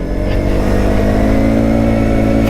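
A Kymco Maxxer 450i ATV engine pulls steadily under acceleration, loud and close, with a continuous rising drone and no speech.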